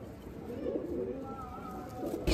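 Domestic tournament pigeons of the Andhra and Madrasi breeds coo softly nearby in a low, continuous murmur.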